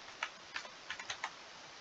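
Quick keystrokes on a computer keyboard as a username is entered, about five light clicks in an uneven rhythm, close and clear over a quiet background.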